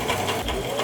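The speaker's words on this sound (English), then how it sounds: "you go over it and then you reverse stitch to like lock it in" A home sewing machine runs steadily, stitching and reverse stitching to lock a seam in fabric, its motor hum close and continuous with faint pulsing across a brief moment.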